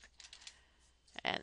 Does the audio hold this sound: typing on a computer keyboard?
yes